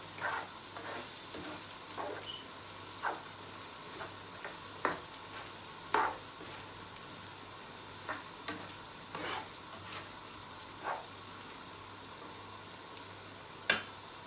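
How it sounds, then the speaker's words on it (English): Spicy dry Lottia fish curry being stirred in a frying pan, a soft steady sizzle broken by irregular scraping clicks of the spoon, fairly faint and close with no voices. "Now I'm going to mix together and stir it. properly."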